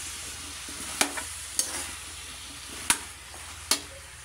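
Coconut milk poured into a pan of sautéing aromatics, a steady soft sizzle and frying hiss with a few sharp clinks of a utensil against the pan spaced through it.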